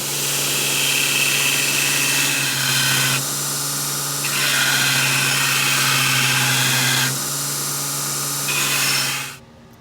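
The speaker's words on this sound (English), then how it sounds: "we got a good sharp 36 grip belt on the grinder" A belt grinder running a coarse 36-grit belt grinds a knife blade, giving a loud sustained whine and rasp that shifts in pitch as the steel is pressed on and eased off twice before the motor cuts out near the end.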